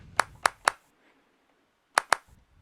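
An MPC clap sample, pushed with soft clipping and added gain, fires in a quick burst of three crisp claps, then a pause and two more close together.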